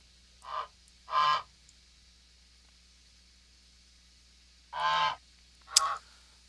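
A goose sound effect gives four short, nasal honks in two pairs separated by a pause, loud and alone against a faint steady background hiss.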